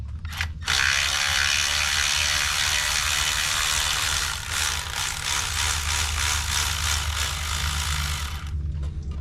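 An air or power ratchet runs almost continuously on the supercharger belt tensioner bolt of a Mercedes CL55 with the supercharged M113K engine, a loud close whirring with rattling bursts, pausing briefly near the start and stopping at the end.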